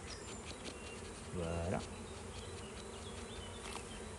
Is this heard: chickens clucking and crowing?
no